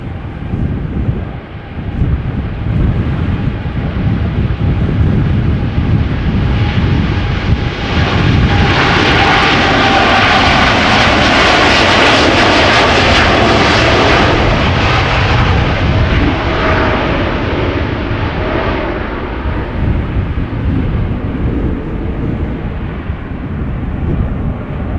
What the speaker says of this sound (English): Also a heavy departure from center, and back to KLM flight 601, going out to LAX 787-10 Dreamliner